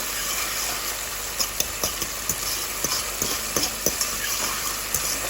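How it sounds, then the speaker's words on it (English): Lasagna sauce stirred in a pan, heard as light irregular taps and scrapes of a spoon over a loud, steady hiss of cooking and a background hum. "Give it a good stir."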